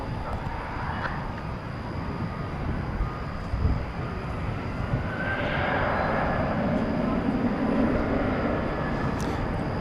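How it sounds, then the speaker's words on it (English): An American Eagle CRJ-701ER regional jet at DFW Airport at night makes a steady broadband engine roar that swells slightly toward the end, distant and continuous, with no talk. "CRJ 701ER going to Lincoln,"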